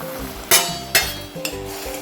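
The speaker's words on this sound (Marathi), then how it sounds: "आता हे पाणी छान उकळलंय यामध्ये आपण हा भाजून ठेवलेला रवा घालूया" Roasted semolina (rava) tipped into boiling water for sweet Konkani khandvi, with stirring and pot clatter: a few sharp scraping hits of a spoon against the pan over a low bubbling, sizzling bed, close and fairly loud, with no talk.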